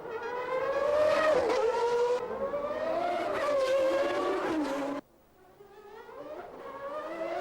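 A Ferrari Formula One car driven by Nigel Mansell screams through a qualifying lap, its high-revving engine rising and falling through gear changes, loud and close before it cuts away and returns more distantly.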